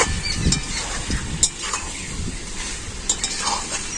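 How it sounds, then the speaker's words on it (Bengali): Mutton is stirred and sautéed in a pan, a soft sizzle under scraping spatula strokes and occasional metallic clinks of utensil against pan, close by and without talk. "কষানাটা দেখেই বুঝাচ্ছে দারুণ হবে"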